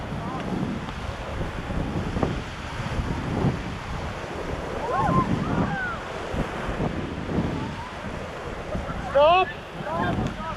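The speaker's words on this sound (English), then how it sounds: "rapid is coming up. Rapid name is Cash Flow." Rushing whitewater roars through the Cash Flow rapid on a river at Rishikesh during a rafting run, a continuous loud churn mixed with wind buffeting the microphone and shouting voices from the raft.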